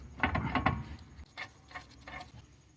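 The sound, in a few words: bolt being placed into a car's lower control arm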